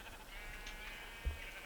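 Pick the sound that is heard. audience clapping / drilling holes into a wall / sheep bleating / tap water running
sheep bleating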